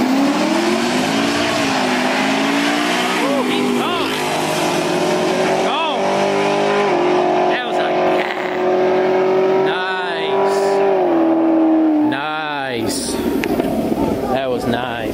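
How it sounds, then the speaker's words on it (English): Mustang and a sixth-generation Camaro roll racing, engines roaring loud and sustained with rising revs and a steady high drone, passing close with Doppler sweeps near the end while people talk over it. "we got a Mustang versus a 6th gen Camaro"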